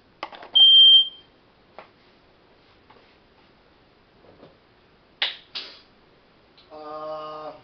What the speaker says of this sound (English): Oops, my fire alarm.